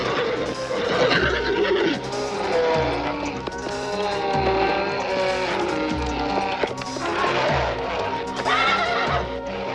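Pegasus, a winged horse, neighs and whinnies repeatedly over a lush musical score, with bright, drawn-out calls that are close and clear.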